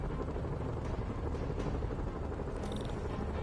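Helicopters in a Spider-Man video game produce a dense, continuous rotor roar and whir, loud and steady throughout, with a brief higher whine near the end.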